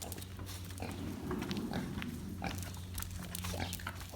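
Bumper, a pet pig, grunts and snuffles close by in a home, low rough oinks in short runs that rise and fall over a few seconds.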